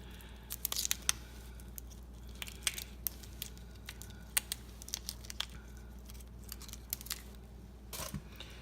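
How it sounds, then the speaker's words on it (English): Shells on a good-sized raw shrimp are pulled off down to the tail, making soft crinkling tears and small sharp cracks in an irregular sequence, close and quiet over a low steady hum. "You want to peel it down to the tail."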